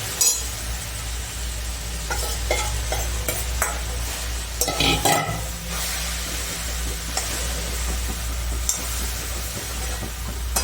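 Crushed dhokla is stirred in a pan of tempering, giving a steady sizzling hiss with intermittent scrapes and a brief metallic clink midway.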